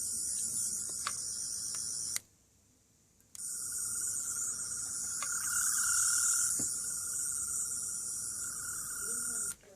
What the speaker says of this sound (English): when you actually do this, you will hear one of 2 Sonic Screwdriver sound effects